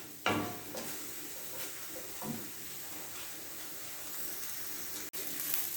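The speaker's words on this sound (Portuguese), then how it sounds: "Aqui eu vou deixar essa carne dourar." Meat browns in oil in a cooking pot, giving a faint, steady sizzle and hiss with a few soft stirring scrapes and utensil knocks.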